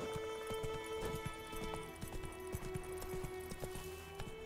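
Roach, the horse in The Witcher 3, trotting with steady rhythmic clip-clop hoofbeats over a quiet game music bed, no voices.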